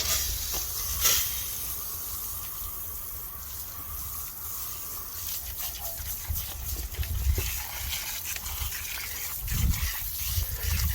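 A water rinse sprays foam off a car during a wash, a steady hissing spray running throughout with a few louder bursts and splashes, no talk over it.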